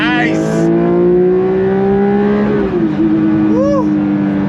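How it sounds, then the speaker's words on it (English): A 2024 Porsche 911 S/T flat-six engine with six individual throttle bodies revs smoothly and steadily, a loud sustained drone that rises and eases off with a brief throttle blip near the end. "That flat six with the 6 individual throttle bodies is such a smooth revving engine."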